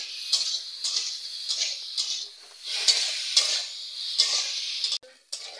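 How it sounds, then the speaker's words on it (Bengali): Potatoes fry in hot oil in a pan, a steady sizzle broken by repeated scraping stirs at a regular rhythm, close and fairly loud. "দেখো, আলু টালুগুলো সব ভাজা হয়ে গেছে।"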